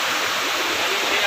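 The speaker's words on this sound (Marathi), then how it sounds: "हा त्यातून वाहणारा सुंदर असा धबधबा." A waterfall on the Panhala to Pavankhind trek pours as a loud, continuous broadband rush that fills the whole moment, close and steady.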